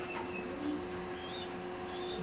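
Racing pigeons in a loft give soft, low coos against a quiet hum of background noise, with no talking.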